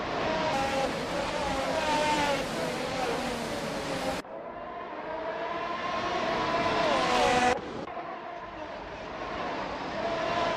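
A pack of race cars, including a Ferrari F175, launches at the start of a race at NOLA Motorsports Park in a racing game, engines revving loud and steady with rising pitch and abrupt shifts as the field accelerates.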